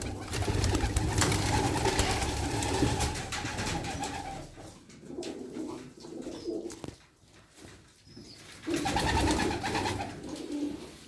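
Hünkari pigeons cooing nearby in repeated low, throaty phrases, with brief pauses between bouts.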